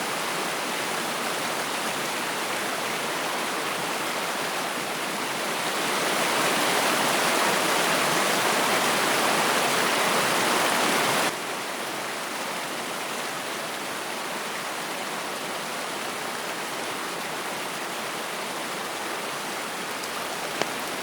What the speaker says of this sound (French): Cette intéressante visite se finira sous une petite pluie qui s'avérera relativement brève.